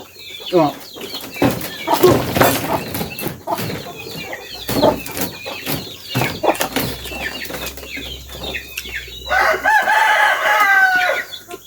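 Chickens cluck and a rooster crows nearby, with wing flaps and busy bird calls scattered throughout while people talk over and between them.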